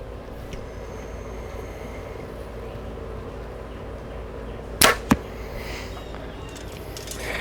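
A Backyard Bows Xpedition Xlite 31 compound bow shoots an arrow, giving a sharp snappy release crack followed by a quick second thwack, over steady outdoor background noise.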